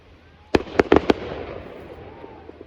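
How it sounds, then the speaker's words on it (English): Fireworks set off by locals in Salmon, Montana, pop several times in a quick cluster, sharp but distant and echoing, heard at night from a high mountain fire lookout at 7,000 feet. "we ended up getting quite the fireworks show from the locals in Salmon"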